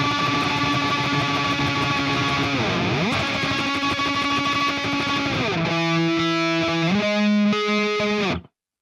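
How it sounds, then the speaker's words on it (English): A distorted, layered guitar lead is played with fast tremolo picking, delay and reverb, with harmonized lines sliding in pitch and a loud, sustained wash of sound that cuts off abruptly near the end. "added in a lead with some delay and reverb with some harmonies"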